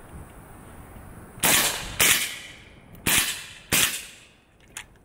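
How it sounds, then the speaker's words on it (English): Zastava ZPAP M70 AK rifle firing subsonic rounds outdoors: four loud, sharp reports, two close together, then a gap and two more, each with a brief tail, and a faint pop at the end. "If you have not shot subsonic through an AK, I highly recommend it."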